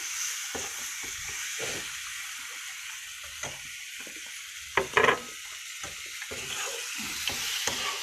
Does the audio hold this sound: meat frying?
yes